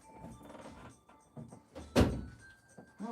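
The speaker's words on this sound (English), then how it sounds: "let me close this door all the way" Indoor door pushed fully shut in a card shop, landing as a single solid thunk midway through faint shuffling and handling noises.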